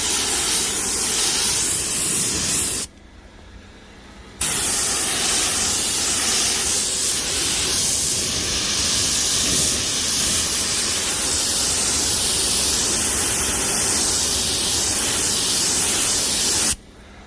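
A paint spray gun hisses steadily while coating a log trailer, a loud, close, continuous spray broken by one brief pause of about a second and a half before resuming, then stopping at the end.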